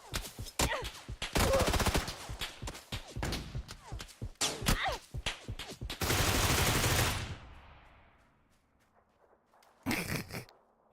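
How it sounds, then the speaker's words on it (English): Rapid bursts of gunfire in the video game PUBG, sharp close shots in quick clusters, then a long sustained burst that fades out and one final short burst. "Let's shoot this guy."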